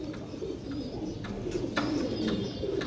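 Several pigeons in a large loft coo in low, rolling murmurs that overlap continuously, with a few sharp clicks and rustles mixed in nearby.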